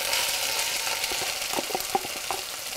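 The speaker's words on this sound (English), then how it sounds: "When you add the onions, the ginger and garlic will stop spluttering." Finely chopped yellow onion fries with ginger and garlic in hot oil, giving a steady crackling sizzle with a few sharp pops. It is close and continuous, with scattered stirring scrapes.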